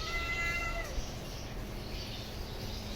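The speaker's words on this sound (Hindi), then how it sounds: "देखो ये आ गई है बिल्ली" A stray cat meows near a house as a fed pet is nearby, a few clear drawn-out cries in the first second over a steady background hiss, then quiet.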